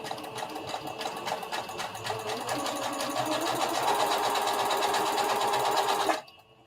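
A domestic sewing machine stitches the hem of a circle dress, a fast steady mechanical whir that runs for about six seconds before stopping abruptly.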